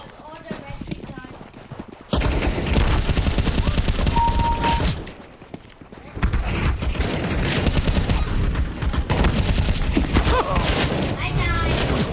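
Counter-Strike: Global Offensive match with bursts of rapid gunfire and clattering game effects, loud and dense, with a quieter lull in the middle and people talking throughout.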